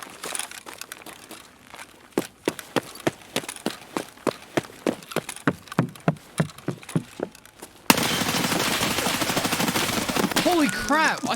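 Rapid single gunshots crack in Escape from Tarkov, about a dozen sharp reports in an uneven run, followed by a denser, steady wash of noise with some whistling tones near the end.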